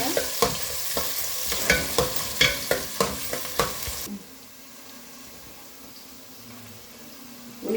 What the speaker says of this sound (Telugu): ఉల్లిపాయలు కొద్దిగా వేగినాయండి.